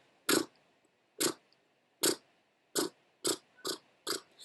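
A person blows seven short lip trills in an uneven series, each a brief fluttering buzz imitating a horse's snort.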